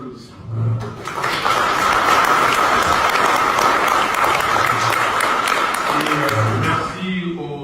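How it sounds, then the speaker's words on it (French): An audience at a political meeting in Belgium breaks into loud, continuous applause lasting several seconds, with a voice speaking just before it starts and again as it fades. "il mérite des applaudissements"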